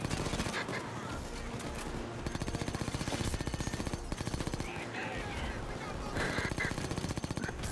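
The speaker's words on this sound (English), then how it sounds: "Where am I getting shot from?" Nonstop rapid gunfire from automatic weapons in the VR shooter Payday 2 during a holdout wave on the Golden Grin map, a dense loud barrage of cracks with bursts overlapping throughout and a voice talking faintly underneath.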